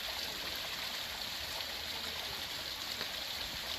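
Cold mountain spring water flowing continuously from a hole in rock, a steady close rushing trickle with no pauses.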